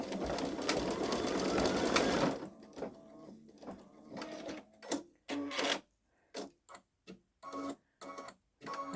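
A Babylock Solaris 3 embroidery machine runs with a dense mechanical whir, then slows into a series of separate rhythmic clacks and stitch bursts with short pauses between them.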